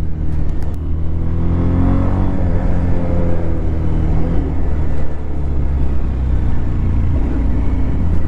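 Modified Bajaj Pulsar 220F motorcycle engine and exhaust, a loud continuous low rumble heard close by that holds steady throughout, with faint brief clicks near the start.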